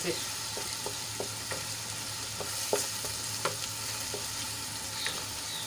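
Onions sautéing in a pan for a methi papad curry, a steady frying sizzle with sharp stirring scrapes and taps at irregular intervals, close by and with no talk.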